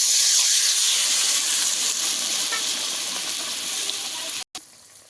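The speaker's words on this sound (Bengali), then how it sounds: "হালকা করে ভেজে দিয়ে দেবো সর্ষে বাটাটা" Mustard paste frying in a pan for a hilsa and elephant-foot yam sour curry, giving a loud steady sizzle and hiss that eases slightly before cutting off abruptly near the end, then returns much quieter.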